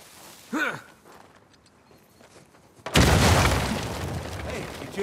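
Dynamite blast in the video game Uncharted 4, a sudden loud boom after a brief quiet stretch, followed by a sustained rumbling roar of debris; a short vocal exclamation precedes it.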